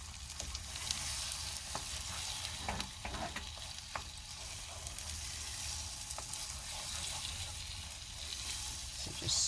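Food is scrambled and fried in a pan, a continuous soft sizzle at moderate distance with light stirring scrapes throughout, no talking.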